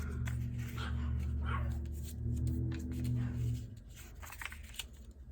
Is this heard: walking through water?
no